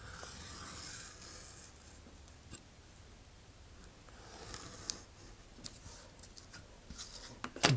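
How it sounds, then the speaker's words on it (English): Hand saw or blade cutting across the grain of a thin wooden rocket fin, heard as faint, scratchy rasping strokes close by with a few sharper clicks toward the end, with no talking. "I'm just gonna cut across here and get rid of this excess piece"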